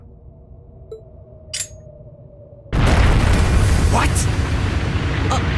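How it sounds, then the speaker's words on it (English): In the video game Trails of Cold Steel, a bomb goes off in a sudden loud boom that becomes a sustained roaring rumble, following quiet tones and a brief spoken exclamation. "A bomb?"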